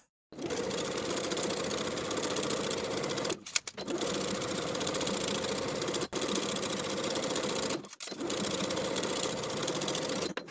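A sewing machine runs steadily, stitching a facing in place around a beginner tank top with a 3/8 inch seam allowance, in three long continuous bursts broken by brief pauses.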